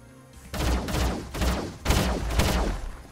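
Units trade fire in the strategy game Age of Wonders: Planetfall, with four heavy, booming shots spaced roughly half a second apart, each ringing out and fading before the next.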